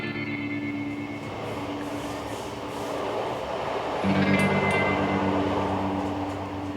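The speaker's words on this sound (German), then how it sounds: "Nach wenigen Stunden im Eis sitzt Elena wieder im Zug Richtung Bergen" Steady rumble of a train ride toward Bergen, Norway, with continuous low rolling noise and a hum that swells slightly louder partway through, no voices.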